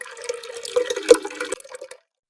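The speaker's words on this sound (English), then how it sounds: "Next, let's add the milk. Can I pour it this time?" Milk trickles slowly into a bowl, a soft, uneven liquid pour with small splashes that stops abruptly before the end.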